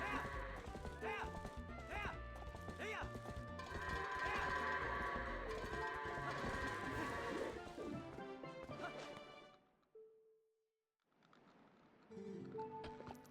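Goats in Zelda Twilight Princess HD run in a dense clatter of hooves, crashes and bleats mixed with game music and effects, dropping out briefly before resuming.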